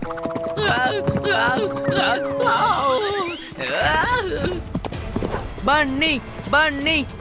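Rhythmic clip-clop of horse hooves running in a cartoon race, loud and close, under excited voices and music with a whinny-like cry.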